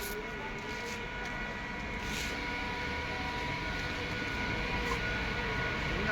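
A train rumbles past nearby in a village setting, a continuous steady roar with a faint whine that holds across the whole stretch, with no clear talk over it.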